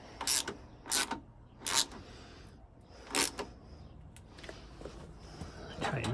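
A ratchet tightens a bolt on a GMC door latch, producing short bursts of quick clicking, about five spaced strokes at an uneven pace, quiet and close in a calm setting.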